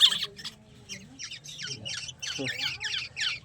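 Repeated sharp squawking calls from a captive black-naped oriole, bursts coming in a quick irregular series close to the mic, with someone talking quietly in the background.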